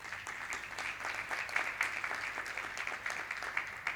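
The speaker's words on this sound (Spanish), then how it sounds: "Vamos a darle un aplauso a Sergio." Audience at an architecture networking event in a Porcelanosa showroom in Huelva gives a steady round of applause for a guest named Sergio, many hands clapping at moderate distance for about four seconds with no voices.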